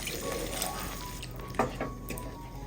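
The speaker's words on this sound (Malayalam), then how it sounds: "ഇതിലേക്ക് 1 കപ്പ് വെള്ളം കൂടി ഒഴിച്ചു കൊടുക്കാം" A cup of water poured into idli batter in a pot, a steady trickling splash with a few drips and sloshes, close and moderately loud, with a brief louder splash partway through.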